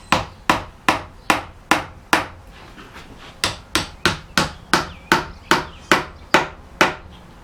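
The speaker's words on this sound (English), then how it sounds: "And this is one place where I do tap with the hammer" Chamfered wooden wedges on a Brettstuhl chair are tapped home with a hammer: a steady series of about fourteen sharp, close knocks in quick rhythm, with one short pause partway through.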